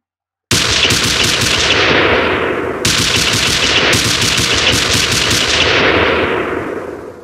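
Sustained automatic AR-4 rifle fire from a weapon system built in Unreal Engine, loud and dense, with a brief pause near the middle before the burst resumes and runs to the end, then slight tail-off.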